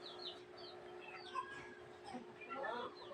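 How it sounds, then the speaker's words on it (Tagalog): Newly hatched chicks from incubated eggs peeping, a scatter of thin high chirps repeating irregularly over a quiet background with a faint steady hum. "Sisiw na siya."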